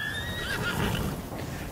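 A horse in the Ghost of Tsushima video game lets out a short, clear neigh with a faint hoof clop underneath, close and over quickly.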